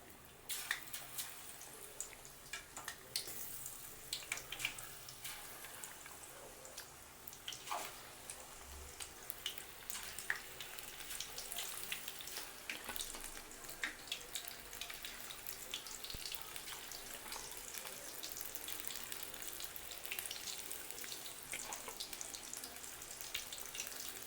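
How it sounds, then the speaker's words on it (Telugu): Prawns sizzling in hot oil for a restaurant-style fry: a steady, dense, crackling hiss that holds at an even level for the whole stretch, with no voices. "ఇప్పుడు ఈ ఆయిల్ బాగా హీట్ ఎక్కింది కదా, దీంట్లో ఒక్కొక్క రొయ్యని తీసుకొని"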